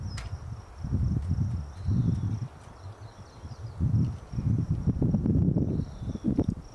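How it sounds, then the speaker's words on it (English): Wind buffeting a camera outdoors beside a concrete block wall: uneven low rumbling gusts come and go, with a faint steady insect chirp in the background. "Probably hear the wind now on the camera a little bit."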